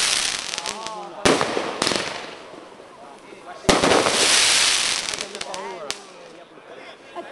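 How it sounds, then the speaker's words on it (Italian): Fireworks and firecrackers go off at a home, with several sharp loud bangs, hissing fizzing bursts and crackling in between, fairly close. "Ancora botti?"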